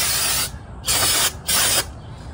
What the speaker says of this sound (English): spray to clean the brakes.